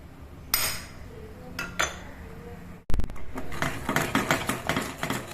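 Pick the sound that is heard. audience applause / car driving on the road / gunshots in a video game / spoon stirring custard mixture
spoon stirring custard mixture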